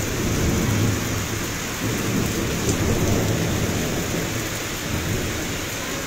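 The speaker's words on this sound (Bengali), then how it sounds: "বৃষ্টি রয়েছে, বজ্রপাত হচ্ছে, আমরা বজ্রপাতের শব্দ শুনতে পাচ্ছি" Heavy steady rain with hail pours down with a low rolling rumble of thunder beneath it, a dense unbroken wash of storm noise.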